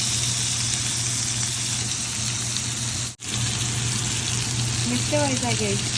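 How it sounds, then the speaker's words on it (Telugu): Salmon fillet searing in a hot pan, giving a steady loud sizzle that runs throughout with one brief dropout midway, and a faint voice joining near the end. "టెన్ మినిట్స్ వరకు ఇంకా సీరింగ్ అవుతూ ఉంటుంది."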